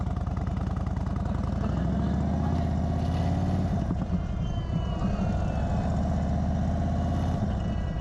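An Indian Chief motorcycle engine runs steadily after starting, a continuous loud low-pitched throb close by, holding an even idle throughout with no breaks.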